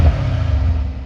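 A Mercedes-AMG C63 S Coupe engine idling, heard from outside the car: a steady, low, muted rumble that holds constant and unobtrusive throughout.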